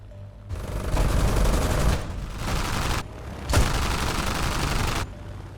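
Machine-gun fire from an M.S.406 fighter plane in aerial combat against Messerschmitts: sustained rattling bursts of automatic fire, loud and dense, in two long volleys separated by a brief break.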